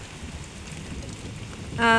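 Steady rain patters on a surface on a rainy morning, a soft continuous hiss throughout, with a brief louder splash or rush near the end.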